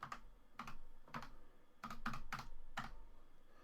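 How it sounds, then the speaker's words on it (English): Keystrokes on a computer keyboard entering a Linux command, about eight distinct clacks spaced unevenly in short bursts, close and clear with no talking. "Now if I type in NeoFetch,"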